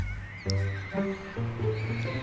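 A horse neighs in a loud, quavering whinny, repeating in a few bursts across two seconds, close by and without talk.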